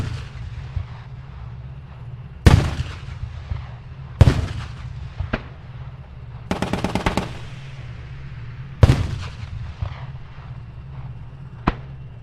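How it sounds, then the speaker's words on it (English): 30mm autocannon rounds fire in the video game Armored Warfare, set against a steady low engine rumble: sharp heavy blasts land at irregular intervals, with one quick rattling burst of several shots in the middle. "So these 30mm rounds can do significant damage and have significant pen to all types of armored vehicles."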